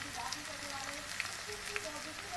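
Chopped onion sizzles quietly in hot oil in a home kitchen pan while aloo shimla mirch sabzi is being made, with soft crackles and pops over a faint voice in the background.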